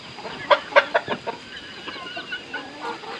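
Several chickens cluck close by in quick bursts, with softer chirping clucks trailing after.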